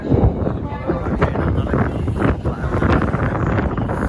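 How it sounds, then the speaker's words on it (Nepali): Strong gusty wind buffets the microphone in a steady, roaring rush with low rumbling bursts throughout. "कस्तो हावा पनि चलिरहेछ क्या चिसो"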